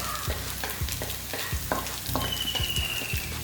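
Garlic fries in hot oil over a high flame, a constant crackling sizzle broken by regular scraping strokes of a spoon stirring the pan, close and busy with no voices.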